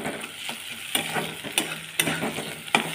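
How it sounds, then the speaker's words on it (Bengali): Onion and green chili fry in a pan with a steady close sizzle, punctuated by several sharp clacks and scrapes of stirring at uneven intervals. No talking. "পেঁয়াজটা আর একটু ভাজা হবে, এর মধ্যে আমি কাঁচা লঙ্কাটা অ্যাড করে দিলাম"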